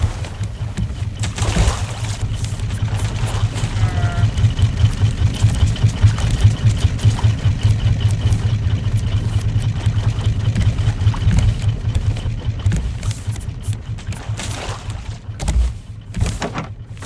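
Two engines drive a survival raft at sea in the game Raft, a steady mid-to-low motor drone humming continuously throughout at even loudness, with a faint watery wash underneath.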